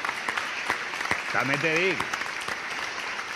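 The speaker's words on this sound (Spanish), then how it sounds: "un aplauso para el Gato 500 euros" Theatre audience applause, a steady wash of many hands clapping at moderate level, running beneath someone speaking over it.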